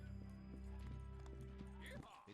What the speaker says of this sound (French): Et d'où viennent ces bruits de pas?